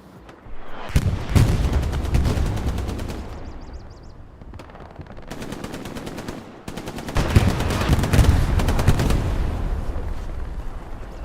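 Heavy gunfire in the World War II shooter Hell Let Loose on the Utah Beach map, with loud bursts of machine-gun fire and rifle shots rattling in two long volleys, separated by a brief lull, with no talk.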